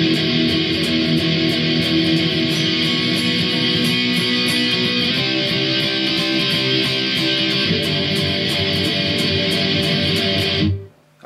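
A song's main chorus rings out on electric guitar with a backing track, driving strummed chords over a steady drum pulse, loud and continuous without speech until an abrupt cutoff.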